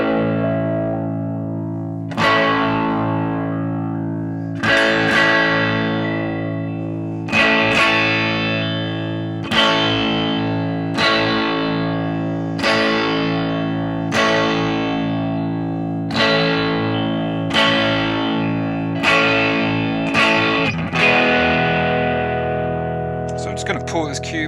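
Distorted electric guitar through a BOSS GT-1000 Core with a tweed amp model, struck as about nine sustained chords roughly every two and a half seconds, each decaying with a tone that shifts as the EQ frequency sweeps.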